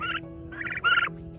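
Turkeys gobble near a feeder, three loud, close, rattling gobbles in quick succession over a low steady background hum, with no one speaking.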